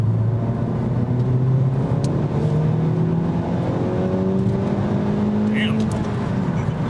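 A Honda Civic Type R accelerates hard in R mode, its engine note climbing steadily through rising sweeps from inside the cabin, loud and continuous as people talk over it.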